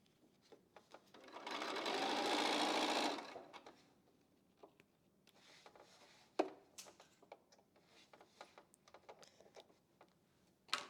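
A sewing machine runs in one short, steady burst while stitching a lavender and white quilt block, then stops. Light clicks and handling noises of fabric and tools follow.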